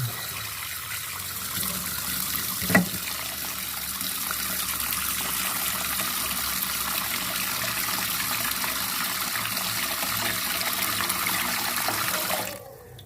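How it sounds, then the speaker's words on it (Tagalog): Water is poured from a container onto fish in a pot while fish sauce is being made, a steady splashing gush running for about twelve seconds and ending abruptly. "At saka natin lagyan ng"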